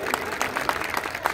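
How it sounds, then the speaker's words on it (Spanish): A crowd claps for young marinera dancers at a company event, a brief burst of dense applause. "Fuerte las palmas, señores."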